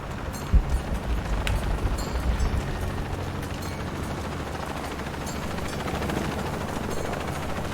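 A helicopter in the video game Shadow of the Tomb Raider thrums as a dense, steady rotor drone under rumbling action noise, with a few sharp impacts early on, all continuous and fairly loud.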